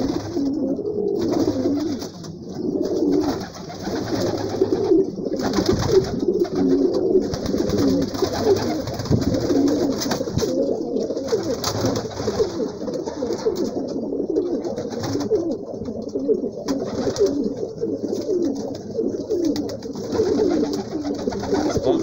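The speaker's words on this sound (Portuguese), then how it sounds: "Deixar vocês concentrar aí, ver os pombos." Pigeons cooing steadily in a loft, many birds overlapping in a continuous close, dense murmur with occasional wing flutters throughout.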